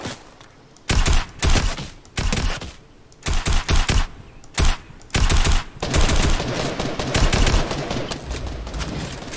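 Repeated bursts of rapid automatic fire from a gun in Fortnite, loud and close, coming in short strings separated by brief pauses, then running into a longer sustained stretch of shooting.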